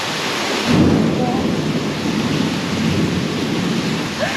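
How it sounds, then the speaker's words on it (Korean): Thunder rolls in a deep, loud rumble during a heavy rainstorm at a resort in Bali, with steady rain pouring underneath. "보셨어요? 번개 친 거."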